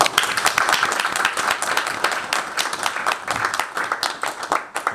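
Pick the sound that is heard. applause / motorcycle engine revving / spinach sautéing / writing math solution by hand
applause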